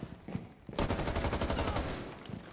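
Gunfire in Rainbow Six Siege crackles out as a rapid burst of shots, with a few scattered single shots first and then a fast automatic string running loud for over a second before tapering off.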